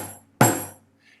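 A kanjira, a small Indian frame drum, is struck once on its membrane, giving a single close, bright hit that rings briefly and decays within half a second.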